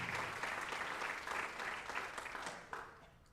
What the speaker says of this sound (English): let's give a round of applause for Colby Oakleberry as he signs his letter of intent to play rugby